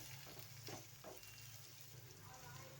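Onion frying in oil in a kadhai makes a continuous close sizzle, with a few stirring scrapes early on and a steady hiss running through to the end.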